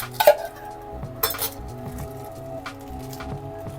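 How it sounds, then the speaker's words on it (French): Feta cheese being cut in a home kitchen with a knife, heard as a few sharp clinks of metal on a dish or pan at the start and again a second later, then quieter handling noises, close up with no talk. "moi je vais couper de la feta sur toi"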